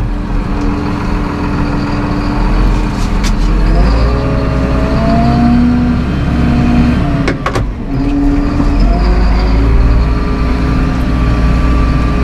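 A Massey Ferguson 7715S Dyna6 tractor engine rumbles loudly and steadily as it drives on after brake release, with a brief dip and recovery partway through.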